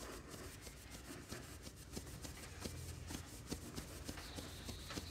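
Steady abrasive rubbing of a self-made metal brake rod for a Simson S51 moped, polished to strip the dark oxide layer; a continuous close scraping texture with small irregular strokes, no talk.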